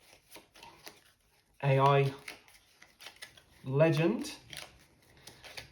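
Playing cards riffled and shuffled during a tabletop racing board game, two crisp bursts of shuffling close by, each about half a second, with a person speaking between and around them.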